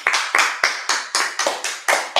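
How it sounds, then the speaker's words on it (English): Rhythmic group clapping at a Sabbath church service, about nine sharp, evenly spaced claps in steady tempo, loud and close with no talking. "Clap it up."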